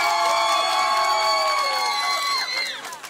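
An outdoor karaoke crowd on a public square cheers and whoops loudly and continuously, with shrill children's shouts and some clapping, fading slightly at the end.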